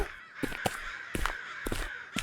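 Crows caw in the Japanese horror video game Okaeri, several harsh calls in quick bursts over about two seconds, fairly faint and alone with no voices.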